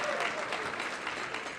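Applause from a luncheon audience, steady dense clapping throughout a short burst, moderately distant, with a faint voice underneath.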